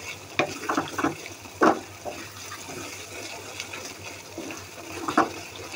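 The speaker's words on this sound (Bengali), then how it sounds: "তেলের মধ্যে, মাছের তেলের মধ্যে এটা ভাজা হইতেছে" Food fries in fish oil in a wok, with no water added, under a soft constant sizzle. A spoon stirs it in several sharp, irregular scraping bursts, close by, and no one talks.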